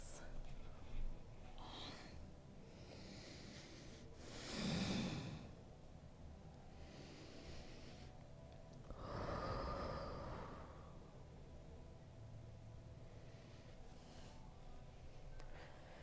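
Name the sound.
slow deep breathing during a yoga class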